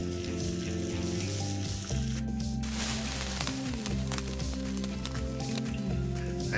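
Finely chopped green chilies hit hot oil in a pan for dal curry, giving a dense, continuous sizzle and crackle over a steady tonal background hum.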